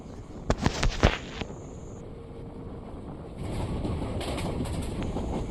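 Sindhanur Express passenger train running on the line as it nears Chikkabanavara railway station, with a few sharp clanks early on, then a steady rumbling rush of wheels and wind that grows slightly louder, no talk.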